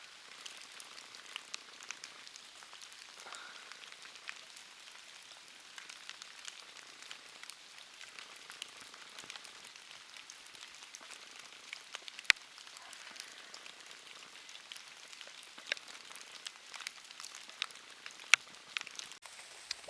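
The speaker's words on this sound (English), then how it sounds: "It's raining like crazy." Rain falls inside an old stone tunnel built in the 1900s, a soft constant patter and hiss with scattered louder drips, fairly faint and heard alone.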